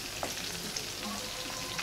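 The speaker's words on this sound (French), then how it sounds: "on peut mettre notre ail" Garlic sizzles in a hot pan for beef in tomato sauce, a soft continuous frying crackle with a few faint clicks, quiet and close, with no talking.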